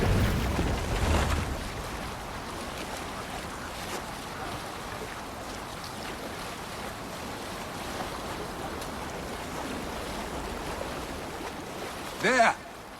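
Sailing boat moving over water in the video game Assassin's Creed Valhalla: a steady wash of water and wind runs throughout, with a louder burst at the start and a brief sharp effect near the end.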